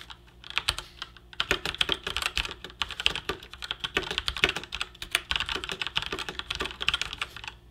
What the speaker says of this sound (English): Here's a quick audio snippet of me typing with this keyboard.